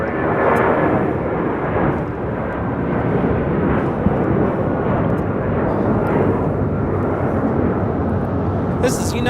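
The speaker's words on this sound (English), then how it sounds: "1552 taking off to Newark on a 757-200" United Airlines Boeing 757-200 taking off at LAX, a loud continuous rumbling engine roar that stays strong and steady throughout, with a brief sharp burst near the end.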